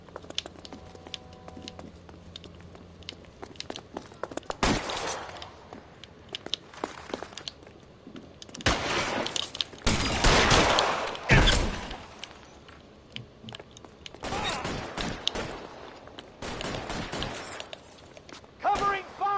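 Bursts of gunfire from a PS4 shooter game, arriving in several loud broadband volleys separated by quieter gaps, with a voice talking over parts of the action.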